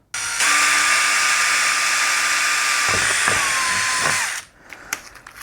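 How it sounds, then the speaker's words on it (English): A power drill pre-drilling a hole for an emergency strobe light box whines at high speed for about four seconds, steady and close, then winds down and stops, followed by a few small clicks. "put a hole for where I'm gonna pre-drill"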